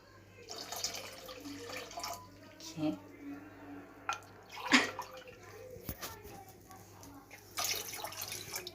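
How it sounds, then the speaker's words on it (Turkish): Three and a half glasses of water poured into a cooking pot for a kalbura bastı syrup: a quiet, splashing trickle with small clinks and a faint voice in the background. "Üç buçuk su bardağı suyumu hemen ekliyorum."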